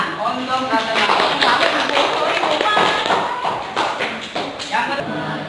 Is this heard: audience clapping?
yes